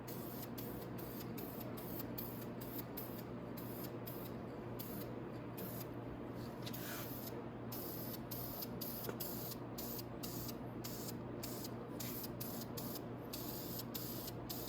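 Spray paint hisses steadily as a motorcycle part on a Venom 250cc chopper gets a green coat, a faint, continuous spray broken by short pauses, with no talking.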